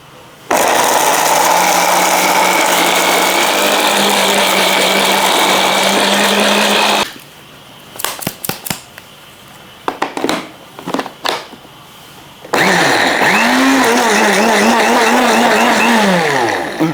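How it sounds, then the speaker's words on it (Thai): A kitchen blender purees a Thai meatball dipping sauce, whirring loudly and steadily, stopping for a few seconds of lid and container clatter, then starting up again with a rising, pulsing whine. "เดี๋ยวเราก็ปั่นเลยค่ะปั่นแล้วเดี๋ยวเราไปเคี่ยวกันเนาะ"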